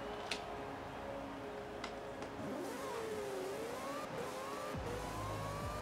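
An AWD four-rotor Mazda RX-7 launches in the Forza racing game, its engine tone climbing and sweeping through gears at a fairly faint level, with a few sharp ticks along the way.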